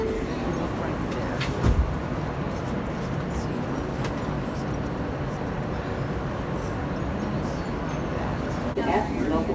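Rumble and rush of a New York City R160A F local subway train running, a steady loud roar throughout with a brief clunk near the start and faint voices underneath.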